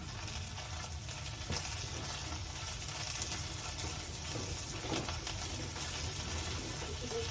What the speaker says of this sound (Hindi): ये भी सरसों के तेल में बन रही है सब्जी